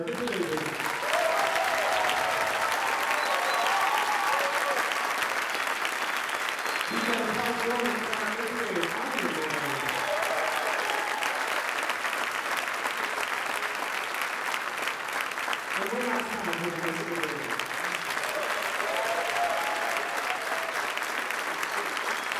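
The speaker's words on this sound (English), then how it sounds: "So let's give a big round of applause again for our fifth graders." A school auditorium audience gives fifth-grade band students a long round of applause at a citywide band concert, a dense, sustained roar of clapping with a few voices and cheers rising above it.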